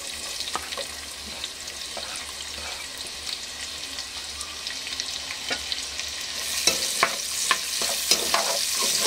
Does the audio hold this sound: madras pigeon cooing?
no